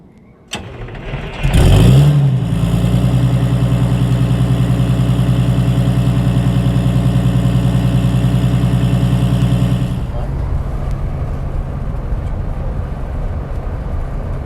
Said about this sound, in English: The bus has been acting a little funny on cold starts